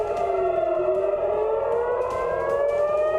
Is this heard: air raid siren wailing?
yes